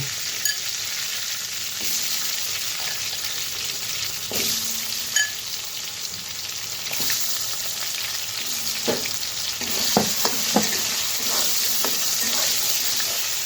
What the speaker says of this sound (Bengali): তো একই তেলে আমি আলুগুলো ভেজে নেব।